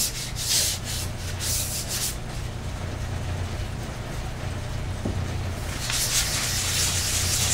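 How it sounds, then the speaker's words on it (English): Hand sanding of the outer coat on a wooden surfboard urn, steady close scratchy rubbing strokes in repeated bursts, alone without talk. "Just a quick sand."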